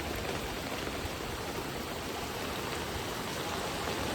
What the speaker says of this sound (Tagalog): Medyo hindi naman mataas, pero malakas yung daloy ng tubig.